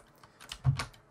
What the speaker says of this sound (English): Press W on the keyboard.